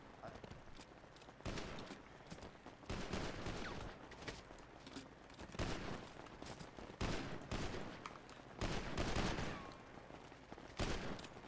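Gunfire in the video game GTA V on a FiveM server, bursts of rapid shots in repeated volleys across the clip, loud and dense.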